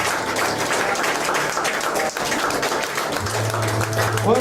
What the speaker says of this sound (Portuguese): Aleluia, aplaude, glorifique